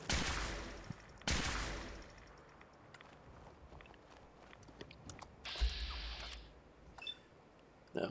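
Gunshots in Fallout 4, a few sharp loud reports spaced out, the first two strongest, with scattered quieter clicks and impacts between and a short burst of noise later.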